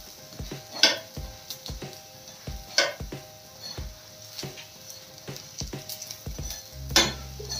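Wheat flour breakfast frying in a little oil in a pan, with a soft continuous sizzle broken by repeated scraping and tapping as it is moved around, several sharper clinks standing out.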